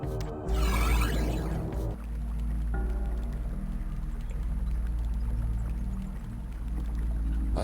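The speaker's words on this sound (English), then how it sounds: "That is rather ominous sound from that teleporter." An ominous teleporter effect in the Hexen game: a swelling, whooshing surge at the start gives way to a sustained, low droning hum with a faint tonal layer, steady and fairly loud throughout with no talk.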